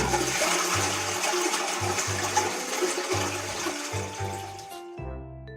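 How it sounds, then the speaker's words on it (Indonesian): A household toilet flushes close by, a loud rushing gurgle of water with pulsing low surges that drains away, followed by a short high tone at the end. "Ayo kita siram urinnya."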